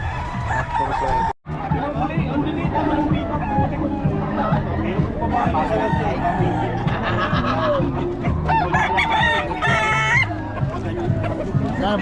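A sweater gamefowl rooster crows among other fowl at a busy cockfighting-bird market in Bocaue, its calls rising over constant crowd babble and nearby people talking.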